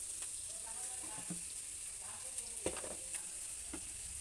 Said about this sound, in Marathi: कांदा तेलामध्ये गुलाबी रंग होईपर्यंत मंदाचे थोडे मीठ टाकू